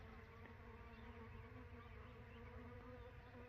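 A faint, steady insect buzz with several overlapping hums, like bees droning nearby, continuous and without voices.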